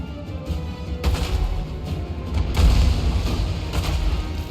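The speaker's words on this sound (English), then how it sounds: "My glorious artillery." Artillery booms in a Total War Warhammer 3 battle between Lizardmen forces, heavy low thuds landing repeatedly over a dense rumbling battlefield din, loud and continuous with a few sharper impacts.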